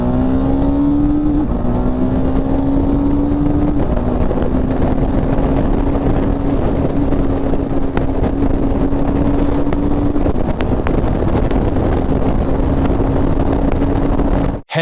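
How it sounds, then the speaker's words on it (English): A motorcycle accelerates hard with clutchless upshifts, its engine droning loudly and close with a steady rising pitch broken by brief dips at each shift, under heavy wind noise and without talk. "Release the throttle, then upshift and get back on the throttle real quick."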